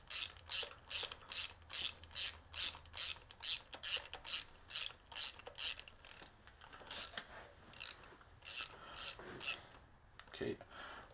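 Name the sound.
ratchet tightening spark plugs on a Jeep Cherokee 3.2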